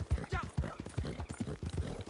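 Clip-clop of a Mustang horse's hooves in the Red Dead Online cowboy video game, a quick, close, steady galloping rhythm of repeated thuds, with someone talking over it.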